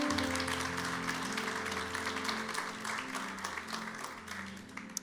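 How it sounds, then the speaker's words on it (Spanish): A church congregation applauding during a service, sustained dense clapping with a held musical tone underneath, slowly easing in level over several seconds. "Dale un fuerte aplauso al Señor"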